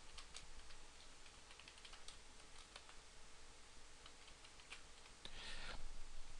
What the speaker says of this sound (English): Go to the tag field, type in your purchase order number.